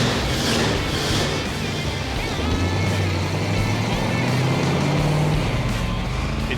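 The engine of a 1974 Ford F-100 upgraded with track power runs at a loud, steady idle. The broad, continuous rumble holds without a break for over six seconds.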